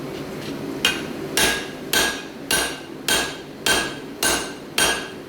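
A hammer drives a punch through hot steel at a forge, eight sharp ringing blows landing at an even pace of about one every half second, close and clear with no talking.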